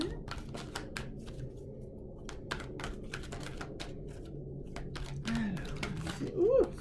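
Tarot cards are shuffled and spill out, with soft rapid riffling clicks and scattered slaps of falling cards, close and fairly quiet, under a low background hum.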